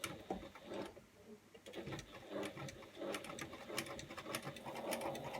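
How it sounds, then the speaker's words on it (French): A sewing machine stitches a seam one centimetre from the edge of a fabric piece, its fast, quiet mechanical rattle running continuously throughout with no voices. "Donc là, on fait une piqûre à 1 cm"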